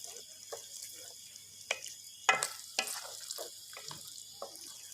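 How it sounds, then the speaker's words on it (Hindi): Boiled chickpeas are stirred in a pan for Lahori street-style chikar cholay, giving scattered soft scrapes, wet clicks and light sizzle at close range, irregular and fairly quiet. "थोड़ा सा हम इसको मिक्स करते हैं।"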